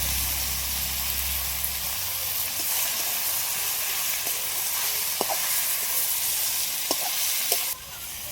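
Spinach frying in a pan with a steady bright sizzle, broken by several sharp clicks and scrapes of stirring, close and continuous.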